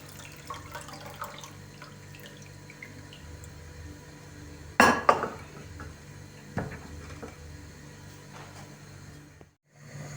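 Liquid is poured out of a glass jar of mustard-fermented cucumbers, faint trickling and gurgling with a louder splash midway, then falling silent at the end.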